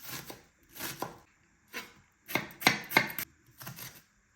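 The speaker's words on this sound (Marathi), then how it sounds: "कांदा एकदम बारीक चिरणार आहे मी" A knife finely chops onion on a board in quick rhythmic bursts separated by short pauses, close and fairly quiet, with no talking.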